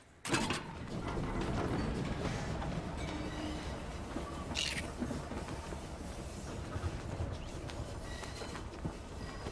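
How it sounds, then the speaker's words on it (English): A train in the video game Voidtrain runs with a steady rumbling, clattering mechanical drone that starts abruptly and continues at a moderate level, with no talk over it. "Why did you turn the train on?"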